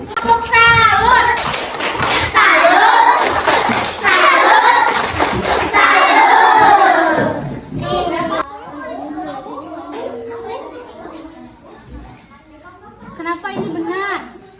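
Classroom of second-grade children at an elementary school clapping the "tepuk salut" routine together, loud rhythmic bursts of hand claps mixed with children's voices, with a teacher talking in between.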